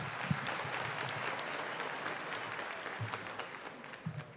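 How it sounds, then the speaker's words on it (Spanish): An audience at a Recycler's Day 2015 event in Ecuador applauds as a speaker is welcomed, a steady wash of clapping heard at moderate distance with a few low thumps underneath. "Un fuerte aplauso para él, lo recibimos."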